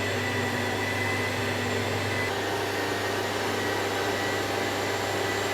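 An electric mixer churns baking dough in an Italian home kitchen with a continuous, even whir that holds steady throughout and has no talk over it.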